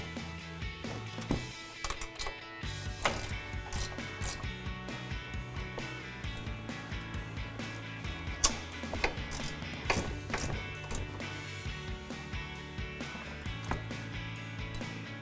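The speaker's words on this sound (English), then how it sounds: "And we'll tighten those down with our 15mm socket." Rapid ratchet clicking as a 15mm socket tightens the two nuts atop the strut on a Ford F-150 front suspension, bursts of quick pawl clicks with brief pauses, close but fairly quiet.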